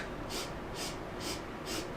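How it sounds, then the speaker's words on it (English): Four rhythmic breaths, in through the nose and out through the mouth, in a pulse-breathing pattern used for jiu-jitsu competition; each soft airy hiss is evenly spaced and close, with no talking. "a pulse breath is going to be 4 count inhale through the nose, and then a 4 count exhale through the mouth"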